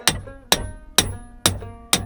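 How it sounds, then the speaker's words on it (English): Five sharp metallic hammer taps on a steering wheel puller, evenly spaced about half a second apart, each ringing briefly before the next strike. "take a hammer and give it a little nudge"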